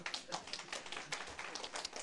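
Lecture audience clapping, a soft, quick patter of many hands heard faintly from a distance with no talk over it.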